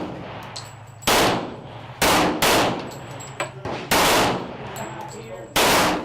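Four sharp, loud gunshots from an FN 5.7 mm rifle or pistol at a shooting range, spaced unevenly about a second apart, each with a bright crack and a short decaying ring.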